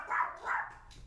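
A dog barks faintly in the background, two short muffled barks about a third of a second apart followed by a softer trailing yip, heard alone without speech.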